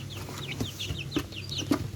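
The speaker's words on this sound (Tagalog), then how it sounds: "Rhode Island chick" Young Rhode Island chicks in a cage give a steady run of high, thin peeps and chirps, close by, over a low background hum.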